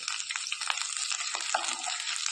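Dried red chilies, onion and curry leaves sizzle steadily in a hot pan for a Kerala papaya curry, with a few soft scraping stirs breaking through the continuous close frying hiss.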